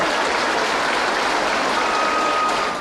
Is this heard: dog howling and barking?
no